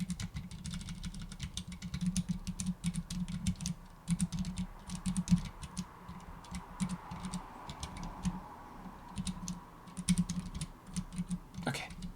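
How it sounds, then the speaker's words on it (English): Typing on a tiny 40% computer keyboard, close-up key clicks coming in quick bursts with short pauses between them, plus a low hum in the background. "there I typed the right character"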